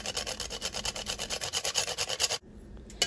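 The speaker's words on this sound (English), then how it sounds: "I'm going to grate the nutmeg in." Whole nutmeg rasped against a grater for a cinnamon-spiced vermicelli cake, a quick run of steady back-and-forth scraping strokes, close and fairly loud, then a brief pause and one last stroke.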